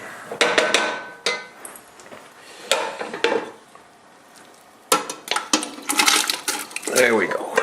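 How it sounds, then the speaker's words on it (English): Chopped parsnips, onions, garlic, celery and carrots tumble into a soup pot for a vegetarian broth, giving uneven clattering bursts and scrapes against the metal, with a brief lull midway and a busier rattle toward the end. "So here come the veggies. I'm going to stir them around a little bit, scrape up any of the little brown bits that I can, and I'm going to dump them in there."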